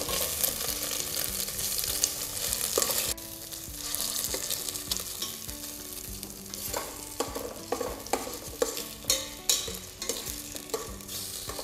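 Fish pan-fries in a tomato curry spice paste with a soft, steady sizzle, punctuated by intermittent stirring and scraping sounds near the pan and no talking.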